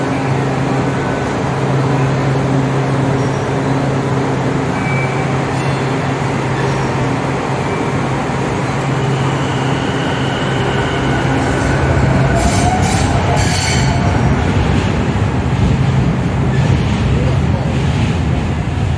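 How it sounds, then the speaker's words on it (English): A new CAF Type 9 MBTA Green Line train pulls out of a station with a steady, loud rumble and rolling noise that continues throughout, with brief high wheel squeals partway through. "We're watching this train leave."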